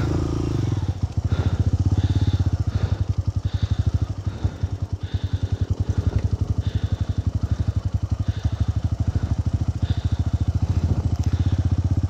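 Motorcycle crawling in first gear along an extreme trail, its engine thumping in a fast, even rapid pulse close up, steady and loud throughout, with faint voices now and then.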